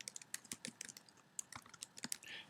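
Fingers typing on a computer keyboard, a quick irregular run of soft close clicks with brief pauses, quiet and with no talking.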